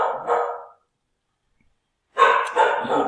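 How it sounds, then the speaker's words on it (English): A dog barks a few times nearby, two short bursts separated by a pause of silence. "Sorry about the dog barking."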